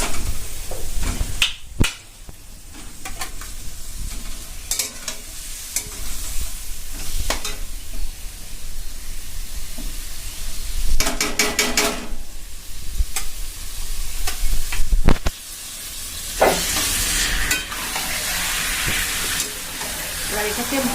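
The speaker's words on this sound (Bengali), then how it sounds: "এবার চিকেনটা দিয়ে দেবো দই দিয়ে মাখানো চিকেন" Yogurt-marinated chicken frying in a pan for a red chicken curry, with continuous sizzling and repeated clattering stirs and scrapes, loud and close, with occasional brief voices in the background.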